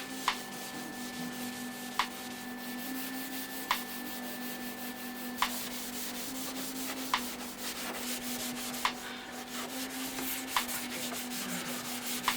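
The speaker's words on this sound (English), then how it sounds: "I've got various different primered parts around here, which I'm going to quickly just scuff over" Primered VW Vento / MK3 Jetta car parts being scuffed by hand before painting, a continuous soft abrasive rubbing with faint regular clicks every couple of seconds over a low steady hum, with no talk.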